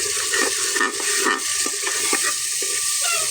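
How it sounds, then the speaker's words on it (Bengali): Spice masala stirred and mixed in a pan, a steady frying sizzle with repeated scraping strokes of a spoon, close and fairly loud, no talking. "মশলাটা ভালোভাবে নেড়েছে মিশিয়েছে।"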